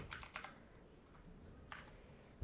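Quiet keystrokes on a computer keyboard as a short query goes into a WordPress plugin search box: a quick cluster of clicks at the start, a couple more later, and a final tap, with no talking.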